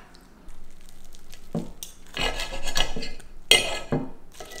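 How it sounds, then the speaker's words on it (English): A knife cuts into a crispy vegetarian banana-leaf fish fillet from a takeout meal. There are several crunchy rasping strokes, close and fairly loud, with a sharp crackle near the end and no talk. "let's cut into that crispy fish fillet"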